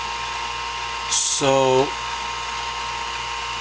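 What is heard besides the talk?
drill making holes in dental model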